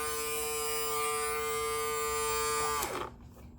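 The faulty steering servo in a 1/12 Dickie Spielzug Mini Cooper RC car whines with a steady, close electric buzz that stops abruptly near the end, leaving quiet.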